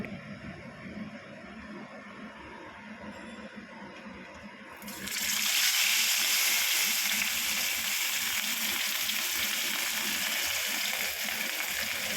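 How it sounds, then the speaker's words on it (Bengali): Two pieces of katla fish drop into hot oil in a home kitchen, bursting into a loud, steady sizzle that fills the rest of the clip after a quieter opening; no one speaks. "তার আগে দুটো মাছ ভাজবো। ওই তোমার কাতলা মাছের দুটো পিস ছিল"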